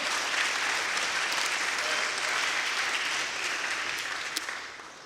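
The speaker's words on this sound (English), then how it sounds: "Round of applause for Debbie Hines" Audience applause at a chapel gathering for a guest, a steady, dense crowd clapping wash lasting several seconds and tapering slightly near the end, with no talk.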